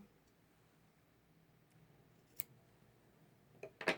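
Scissors snip embroidery floss during a cross-stitch session: a faint crisp cut, then a couple of quick closer snips at the end, over a quiet room.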